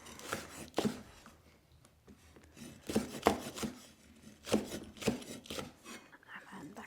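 A knife chops red and green chilies on a board, cutting them diagonally, in soft irregular thuds and rasps spaced about a second apart, faint and close, with no voices.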